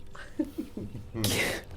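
A single quick sneeze bursts out near the end of a short stretch of soft, quiet talk during a tabletop role-playing game session.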